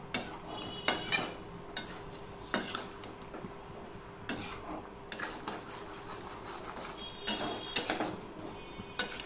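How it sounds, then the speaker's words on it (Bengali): A spoon stirs a vegetarian vegetable curry in a pan, giving repeated scraping clinks against the metal over a low sizzle, at moderate volume with no talking. "তো আমি আবারও মিশিয়ে নেব।"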